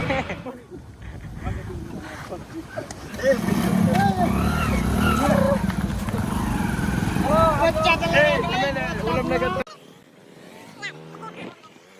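A motorcycle engine hums and revs nearby as it is ridden in a village in Patan district, Gujarat, with people talking and shouting over it before it cuts off.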